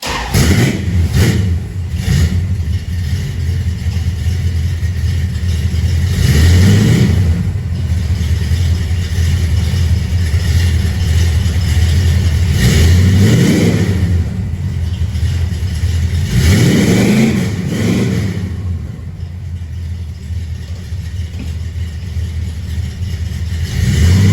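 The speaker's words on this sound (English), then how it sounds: "let's fire this thing up. Go through the gears." A 1973 Dodge Swinger engine fires up and revs through the gears, loud and close, its drone swelling and falling in repeated acceleration pulls with short shift dips between them.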